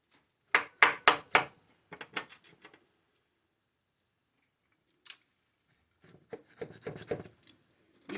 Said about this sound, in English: You're going to cut through that fat and make sure to get that garlic deep inside